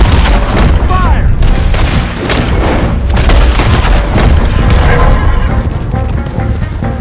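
Heavy gunfire in Red Dead Redemption 2, loud, booming shots and volleys layered over one another in a continuous chaotic firefight, very close, with voices shouting through it.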